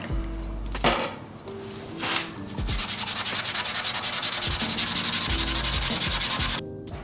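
Scotch pad scrubbing a 36-inch Blackstone griddle top, steady rhythmic rasping strokes that speed into a fast continuous back-and-forth rub, close and fairly loud.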